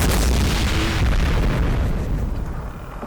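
An anti-tank gun fires in the Combat Mission: Black Sea war game: one loud, heavy boom whose broad rumble fills the clip and slowly fades over about three seconds, with no voices.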